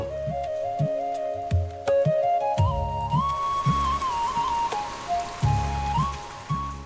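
Monsoon rain falls steadily in a rural village, a continuous patter of drops on surfaces mixed with melodic background music and soft rhythmic thumps.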